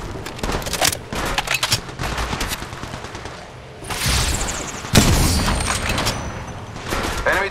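Rapid bursts of gunfire in Apex Legends Mobile crackle close and loud, with volleys of automatic shots and heavier booms, and a voice calls out over the shooting.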